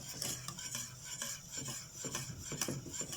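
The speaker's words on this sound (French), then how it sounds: "Là, je suis au fouet, voilà." A whisk works a thickening sauce in a pan, making quick, rhythmic scraping and rubbing strokes against the metal, close and moderately soft, with faint sizzling underneath.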